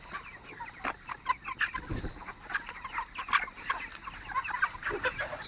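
Yellow-legged broiler chickens on a poultry farm at night keep up a dense, continuous chorus of clucks and chatter, many birds close and farther off with no voices heard.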